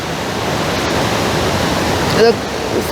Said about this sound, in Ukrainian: Водоспад пробій